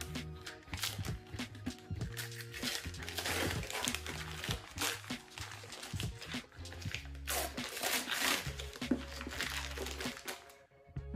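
Gift wrapping paper is crinkled, torn and crumpled off a book, with a close, busy rustle of paper handling that carries on without pause and stops abruptly near the end.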